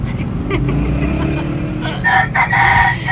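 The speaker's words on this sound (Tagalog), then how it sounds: "Magsawa kayo sa tilaok na manok." A rooster crows loudly and close by, a long rising call over a low rumble of background noise.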